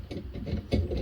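A brake caliper piston on a Daewoo Matiz front end is pushed back with a G-clamp, giving close, short ratcheting and grinding clicks in uneven bursts with no talk.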